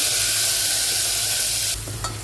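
Ground coconut masala with garlic sizzles loudly in a hot pan for a sambar, a steady broadband hiss with stirring scrapes, the frying noise dropping abruptly near the end as the pan settles.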